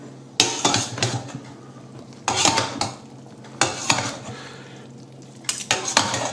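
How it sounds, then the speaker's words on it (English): Two big spoons mix creamy Savoy cabbage in a pan, making repeated scraping, clattering strokes in bursts with a faint sizzle underneath and no talking. "We're going to need two big spoons,"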